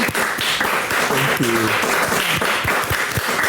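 A studio audience applauds steadily on a talk show, a broad, dense wash of clapping that fills the whole stretch while a voice briefly speaks over it.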